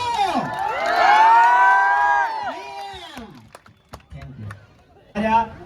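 A crowd of fans at a lively public gathering in Deesa cheers and whoops loudly and close, with raised voices swelling together, then breaking off into scattered shouts before another brief burst.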